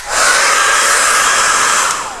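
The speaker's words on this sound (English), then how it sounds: "I think I'm going to get my hairdryer out. I'm going to blow this thing dry" A hair dryer blows with a loud, steady whooshing roar, close up and uninterrupted throughout.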